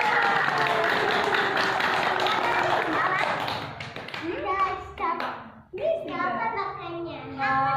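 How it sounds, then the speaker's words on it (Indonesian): Children clap and cheer at the end of a told story about three rabbits and a wolf, a burst of scattered hand claps mixed with excited kids' voices, then a voice carries on speaking. "Yeay, beri tepuk tangan."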